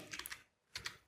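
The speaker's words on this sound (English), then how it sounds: "I am pressing the Control C" Computer keyboard keys are pressed in two short clusters of soft, close clicks about half a second apart, quiet and with no talking.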